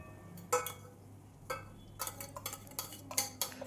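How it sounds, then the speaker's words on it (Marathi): Semolina being stirred and roasted in ghee in a pan over medium flame, with a handful of spaced clinks and scrapes of the spoon against the pan, fairly close and alone without talk. "तो रवा चांगला तुपामध्ये परतून घ्यायचा आहे"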